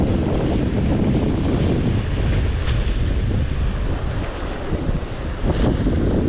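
Steady wind blowing over the sea at a jetty during a winter fishing outing, a continuous loud rushing roar with buffeting on the microphone and surf beneath, with no voices.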